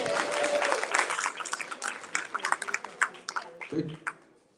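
A lecture audience breaks into applause that quickly thins into scattered individual claps and fades within a few seconds, with a voice briefly heard.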